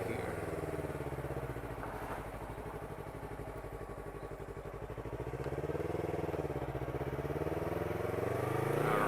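A first-generation Yamaha R3 motorcycle engine drones steadily while being ridden on city streets, a low continuous hum beneath wind noise that rises slightly in pitch near the end.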